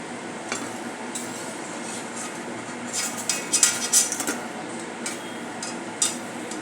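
Fried vadas lifted out of hot oil, a steady sizzle and bubbling under scattered metallic scraping and clinks of a slotted spoon, close and fairly loud throughout.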